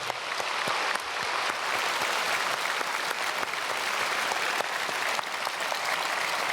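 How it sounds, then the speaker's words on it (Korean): At a special dawn service in a large church, the congregation gives an even, sustained round of applause, many hands clapping together with scattered louder claps and no voices over it. "우리 하나님께 영광의 박수 올려드립니다."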